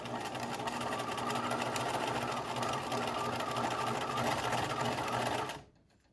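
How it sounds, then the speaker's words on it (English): A sewing machine stitches elastic into a knit waistband, a continuous close motor whir with rapid needle chatter running steadily for about five seconds before stopping abruptly. "you make sure you catch the elastic while you're stitching this down"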